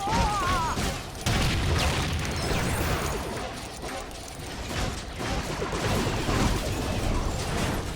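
Rapid bursts of video game gunfire in LEGO Star Wars: The Clone Wars crackle and pop, mixed with mechanical clanks and booms, dense and continuous over several seconds at moderate volume.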